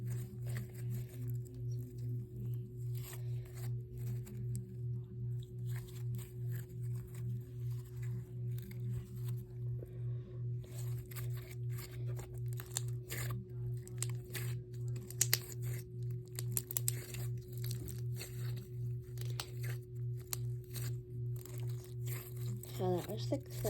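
Slime is squeezed and crunched, giving bursts of crackly, crinkling pops that come in clusters over a steady electrical hum, with a voice faintly present.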